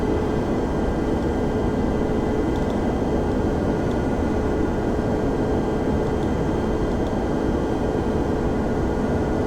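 A Captain Sim 767 airliner in the FSX flight simulator climbs after takeoff, producing a steady, loud broadband engine roar with a faint whine that holds constant throughout, no voices present.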